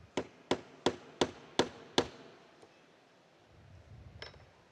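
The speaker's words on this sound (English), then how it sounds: "Back to the maul. We're not using the metal hammer." Wooden maul striking a domed metal section: six sharp, evenly spaced knocks in quick succession, then a faint tap and a later light strike, with low rustling between.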